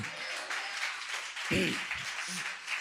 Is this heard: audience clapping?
yes